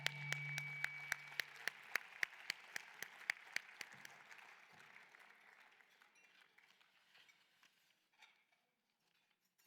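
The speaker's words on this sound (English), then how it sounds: "How about another round of applause for them?" Audience applause at a pediatric heart care fundraising event, a dense round of clapping that starts strong and gradually thins out and fades toward silence.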